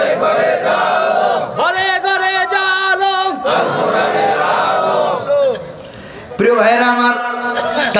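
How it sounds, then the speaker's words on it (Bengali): A large crowd at an Islamic religious sermon (waz) in Chandpur chants the takbir slogan in loud unison, repeated shouted call-and-response bursts with a brief dip before a final surge, a preacher's voice leading. "রক্ত দিতে যারা রাজি আছেন, দুহাত উঁচু করে একটা নারে তাকবীরের স্লোগান দিয়া আল্লাহরে দেখা।"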